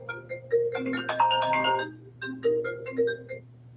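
Phone ringtone going off at night, a bright electronic melody played in two repeated phrases over a steady low hum, loud and close.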